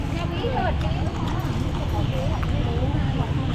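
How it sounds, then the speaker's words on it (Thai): Hooves of a horse-drawn carriage clip-clop steadily through a busy street market in northern Thailand, their rhythm mixed with crowd chatter and voices nearby. "มีรถม้าด้วยครับ"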